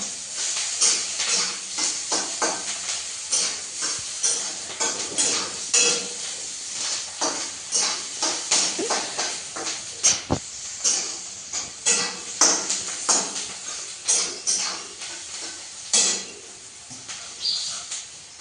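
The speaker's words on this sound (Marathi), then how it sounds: "कढई टाकल्यावर कांदा लगेच घालणार." Crackling sizzle of onions frying in a kadhai, with steady hiss and occasional clinks of a utensil stirring, no voices.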